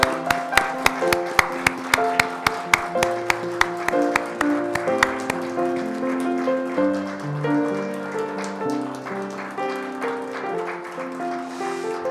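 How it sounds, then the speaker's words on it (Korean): A church congregation claps together during a Sunday service, a steady patter of hands running beneath prominent piano or organ music for several seconds. "우리 함께 박수로 격려하겠습니다."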